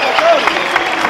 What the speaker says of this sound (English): on peut vraiment les applaudir très très fort